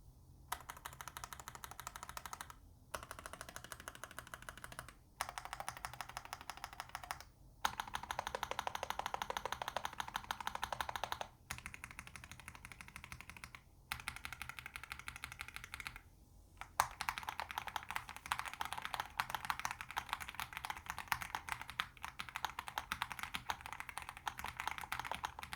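Steady, rapid clacky keystrokes on a Kzzi K75 V2 low-profile mechanical keyboard, typed in bursts separated by short pauses, close and clear with no talking.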